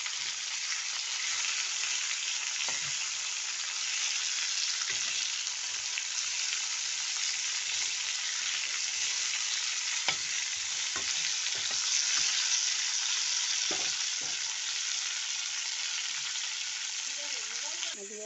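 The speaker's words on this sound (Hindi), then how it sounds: "मच्छी पूरा फ्राई हो गया।" Fish frying in a pan, a continuous loud sizzle close by with occasional pops and light clinks throughout.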